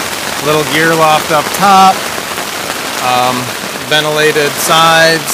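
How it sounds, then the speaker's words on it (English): An afternoon pop-up rain shower patters steadily on a Northwest Territories Sierra Dome tent, a continuous hiss beneath someone talking close up throughout. "We're in the middle of an afternoon pop-up shower."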